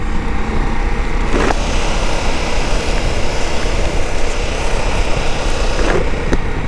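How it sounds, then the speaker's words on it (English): A 2024 Ducati Multistrada V4 S Grand Tour adventure motorcycle with a twin-pulse V4 engine roars loudly and steadily, a close, dense mechanical drone that holds without a break and has no voices over it. "Of all the heavyweight adventure bikes, this is the best sounding."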